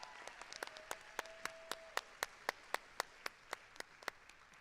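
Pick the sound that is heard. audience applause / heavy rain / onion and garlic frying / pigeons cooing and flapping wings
audience applause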